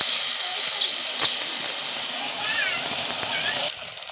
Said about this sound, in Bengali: এবার আমি জল ঢেলে দিচ্ছি।